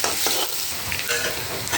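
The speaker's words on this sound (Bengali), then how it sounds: "এখন আমি পেঁয়াজ আর কাঁচা লঙ্কাটা দিয়ে দিচ্ছি। নেড়ে দিচ্ছি।" Onion and green chili sizzle loudly in an oiled pan while being stirred, with scraping strokes of a spatula over a continuous close frying hiss.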